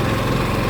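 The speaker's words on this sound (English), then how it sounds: "I'm going to listen to the exhaust. The generator rocks." Steady, loud droning exhaust from the generator on a 2021 Winnebago Solis 59PX RV, heard up close as a continuous engine rumble with no talk.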